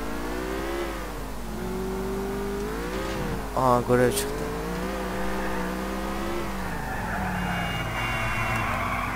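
A taxi in GTA IV drives with a steady engine drone that rises and falls with throttle, plus a brief revving surge midway, while someone talks over it.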